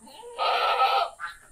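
A goat on a goat farm gives one loud, drawn-out bleat, followed by a shorter, fainter bleat, with quiet farm ambience before and between the calls.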